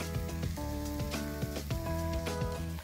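Chopped spring onion bhaji with red chili powder fries in a pan, a close, continuous sizzle and crackle, with faint stirring beneath a strong musical tone.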